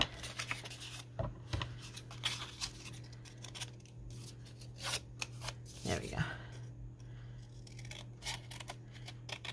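Scissors snip through a Christmas treat bag in a couple of short, crisp cuts, surrounded by soft rustling and handling of the bag, with some background sounds between the cuts.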